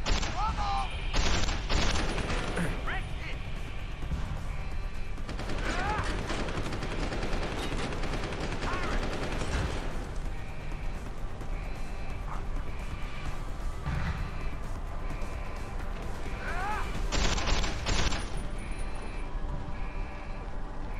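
Gunfire from the Deus Ex: Human Revolution video game on PS3 comes in repeated sharp bursts and rattling volleys, loudest near the start and end, amid action noise and occasional speech.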